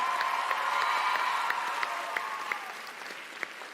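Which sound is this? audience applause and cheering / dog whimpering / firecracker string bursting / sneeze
audience applause and cheering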